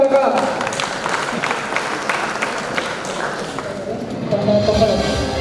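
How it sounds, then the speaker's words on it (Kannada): An audience at a state-level teachers' quiz programme held at a school applauds steadily, the dense clapping filling the whole stretch and swelling near the end, with some voices mixed in. "ನಿಮ್ಮೆಲ್ಲರ ಜೋರು ಚಪ್ಪಾಳೆಯ ಮೂಲಕ"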